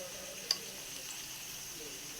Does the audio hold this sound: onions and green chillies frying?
yes